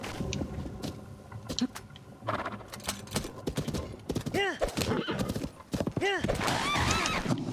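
A horse whinnies twice in Zelda Breath of the Wild, sharp rising neighs over brisk clip-clopping hoofbeats, with someone talking intermittently over the game sounds.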